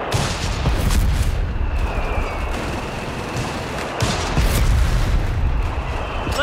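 Heavy artillery and mortar fire in the strategy game Company of Heroes 3, with loud continuous rumbling booms and overlapping blasts filling the whole stretch.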